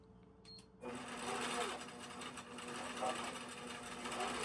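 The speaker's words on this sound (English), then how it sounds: "And now I'm going to baste it." Sewing machine basting a quilt along a quilt path, starting after a short quiet moment with a steady, close mechanical whir and rapid stitching hum that runs without a break to the end.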